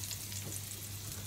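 Hot oil sizzles quietly in a pan, ready for frying shallots, a soft continuous hiss and crackle with a low background hum.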